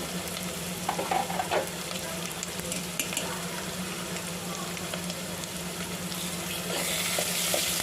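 Ground masala and turmeric frying with mustard seeds in a pan for a Maharashtrian ghevda curry, a loud continuous sizzle with scraping stirs throughout, the hiss swelling brighter toward the end.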